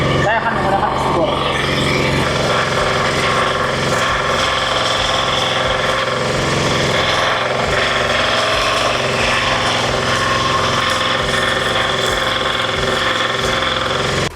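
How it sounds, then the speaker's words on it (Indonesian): A Firman FDW300C welding inverter generator runs loud and steady while also powering a 600-watt electric drill, a constant droning engine hum with a whining motor layered on top, and a voice talks over it. "jadi penggunaannya ini sekaligus dua, yaitu menggunakan genset dengan menggerakkan mesin bor bertenaga 600 watt"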